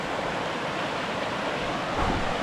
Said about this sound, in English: Another big water crossing right here.